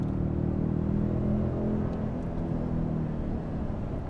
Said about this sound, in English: I'm going to punch the accelerator